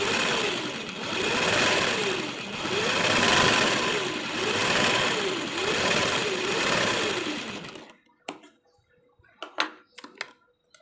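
A sewing machine stitches the neckline of a 36-size prince-cut blouse, running in a steady rhythmic whir with regular surges for about eight seconds, then stopping, followed by a few faint clicks and handling sounds.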